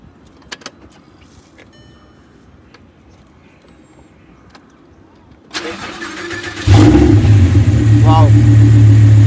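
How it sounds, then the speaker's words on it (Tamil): An Audi R8 V10 with a custom loud exhaust starts up: quiet clicks and key jingles, a starter whir, then the engine catches with a sharp loud bark and settles into a deep, powerful idle close by. "வண்டியை காரை ஸ்டார்ட் பண்ணி வண்டியோட இன்ஜின் நாய்ஸ் எப்படி இருக்குன்றதை பார்த்துருவோம்."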